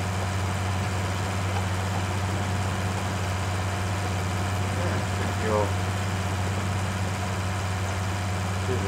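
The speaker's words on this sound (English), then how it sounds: "nice tractor, works well at the minute" A farm tractor engine idles steadily nearby, a constant low rumbling hum with no change in pace, while a person briefly speaks over it.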